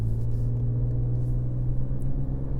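A next-generation Ford Ranger Raptor climbs a hill in tow mode, its engine giving a steady, loud, close droning rumble with a firm low tone that holds throughout.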